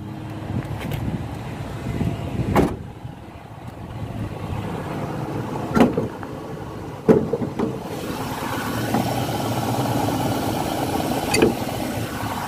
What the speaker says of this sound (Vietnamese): Máy nổ rất là ngọt.